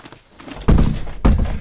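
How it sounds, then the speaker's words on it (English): A duck bangs on a wooden door of a farm building on a cold winter morning, giving two loud, close, heavy thumps about half a second apart. "Oh, and there's Doug banging on the door"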